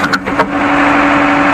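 A JCB 3D backhoe loader drives along with a steady mid-pitched engine drone and a constant tonal hum, a few brief knocks near the start, then an even, continuous running sound.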